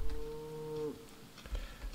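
Cows mooing in the survival game Project Zomboid, one drawn-out low moo that cuts off partway, followed by faint scattered thumps and soft noises, heard alone without speech.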